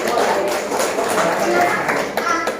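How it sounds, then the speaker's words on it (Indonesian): Children and adults at a school reading-corner event clap together in a quick, close patter of hand claps, with voices chattering underneath. "tepuk tangan dulu yang di belakang"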